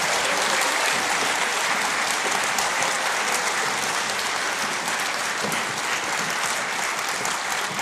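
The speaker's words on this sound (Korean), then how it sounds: "박수 감사드립니다." Concert audience applauding at a memorial concert for General Paik Sun-yup marking 70 years of the Korea–US alliance, a full, even wash of clapping sustained throughout, with no talk over it.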